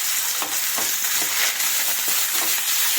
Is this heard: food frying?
yes